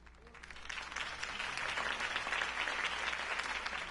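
Crowd applause after Harvey Dent's campaign speech in the video game Batman: The Telltale Series, dense clapping swelling in from quieter to fuller and holding steady, over a low background hum.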